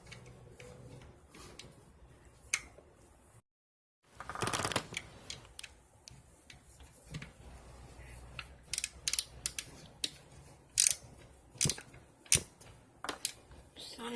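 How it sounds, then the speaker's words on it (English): Ratcheting wrench clicking as it snugs a camshaft position sensor on a 2007 Nissan Maxima, with a series of sharp close clicks and mechanical rattles, quiet overall, speech also present. "Then I just need the wrench here. Stick it on there."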